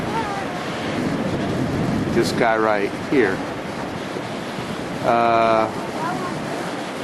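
Ocean surf rolls and breaks at Crystal Pier in San Diego, a steady washing roar with wind buffeting the microphone, while someone talks over it and brief voices cut in.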